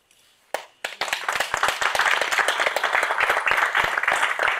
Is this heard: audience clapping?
yes